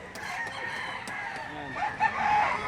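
A rooster crows at a busy chicken market in Lipa City, Batangas. The crow is fairly faint and brief and rises over the background noise of the market.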